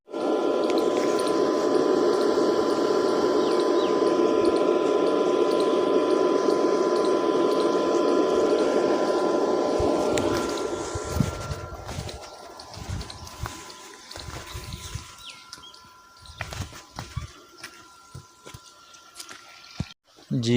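An electric water pump runs at a crop field, pushing irrigation water in a steady, loud gushing rush for about ten seconds before it fades into quieter splashes, drips and scattered knocks nearby.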